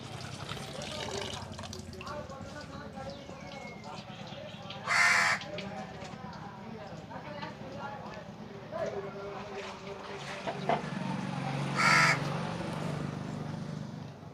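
A crow caws twice, several seconds apart, loud and close, while a person talks through most of the clip.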